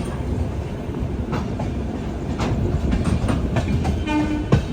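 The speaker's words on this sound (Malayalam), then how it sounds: "രണ്ട് ലോക്കോമോട്ടീവ് അതിന് ഇപ്പോൾ എം ജി ആർ ചെന്നൈ സെൻട്രലിനോട് വിടാം" Chennai to Bengaluru mail train hauled by two locomotives departing MGR Chennai Central, a steady rolling rumble of railcars with faint clicks and a brief whistle-like tone near the end, no talking.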